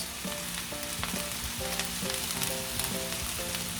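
Salmon fried rice with scallions and salt crackles as it is stir-fried, a dense sizzle broken by repeated thuds and scrapes of the spatula tossing the rice.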